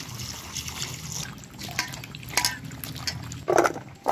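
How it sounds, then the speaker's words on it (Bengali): Water sloshes and trickles as cut papaya pieces are washed by hand in a bowl, with irregular splashes and light clinks of pieces against the vessel, close and moderately loud. "এবার জল দিয়ে ভালো করে ধুয়ে নেব"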